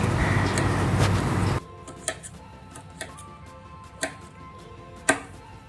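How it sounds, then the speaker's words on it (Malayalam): Knife chopping elephant foot yam (chena) into small pieces on a board: a few sharp, separate thuds about a second apart, clear and close, after a louder opening stretch of noise, with no talk. "അപ്പോൾ നമുക്ക് ചേന ചെറിയ കഷ്ണങ്ങളായിട്ട് അരിഞ്ഞെടുക്കണം"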